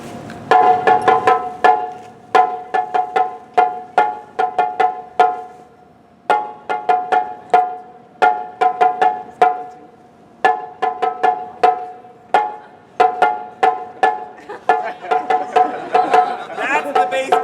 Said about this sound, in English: Matsuri Taiko base beat.